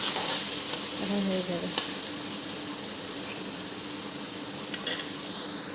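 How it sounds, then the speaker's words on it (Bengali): Taro (dudh kochu) with dried fish (shutki) sizzles in a pan and is stirred: a steady close frying hiss with a few scraping strokes near the start, and a brief spoken line. "আমার এখানে ভাজা ভাজা করে নিয়েছি"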